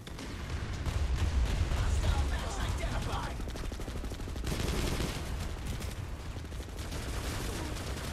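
Rapid gunshots in Planetside 2, a sustained stream of automatic fire with steady rattling rhythm, loud and close, with a voice talking over the shooting.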